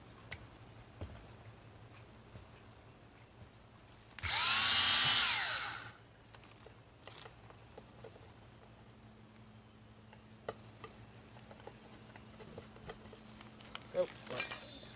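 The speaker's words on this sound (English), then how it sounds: "Alright, so I'm just going to drill a couple holes" A power drill bores a hole under the eaves while a solar LED security light is being mounted, one loud burst of about two seconds standing out over faint outdoor background, with a short second burst at the very end.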